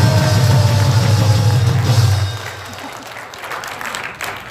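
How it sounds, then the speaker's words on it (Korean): Outdoor political rally crowd claps loudly in a thick, sustained burst, with a low rumble underneath, then drops to scattered, thinner clapping after about two seconds. "박수 크게 한번 보내주세요"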